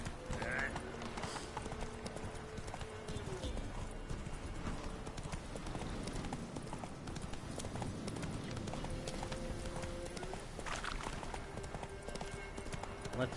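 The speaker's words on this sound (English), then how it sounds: "Let's go, horse." Horse hooves gallop in The Witcher 3 in a steady, continuous clip-clop rhythm, close and prominent over a dense background of game ambience.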